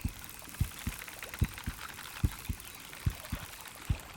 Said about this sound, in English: Alright, there's the heartbeat.